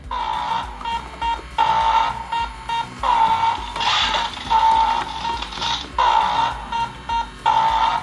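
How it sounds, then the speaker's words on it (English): An electronic alarm from a Beast Lab shark creator toy beeps in repeated bursts, a steady high tone switching on and off in a regular pattern, loud and close. "I think that's the alarm."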